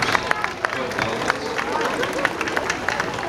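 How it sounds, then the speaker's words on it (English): Audience clapping at a dolphin show at the Vancouver Aquarium: a dense, steady patter of many hands from a crowd, with crowd murmur mixed in. "So a round of applause, let's welcome the players and the trainers"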